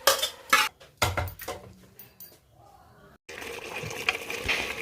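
A ladle stirs chicken being fried down with spices in a pan, making intermittent metallic clanks and scrapes in uneven bursts, followed by a steadier wet sizzling texture.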